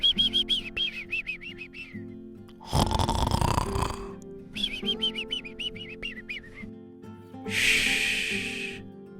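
A voice imitates a dump truck snoring in a goodnight construction-site story: two long, rasping snore breaths stand out, close and loud, between stretches of high, chirpy whistling tones.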